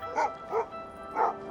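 Sled dogs at a Yukon dog-sledding race let out three quick, close yipping barks in an uneven rhythm, with quiet gaps between them.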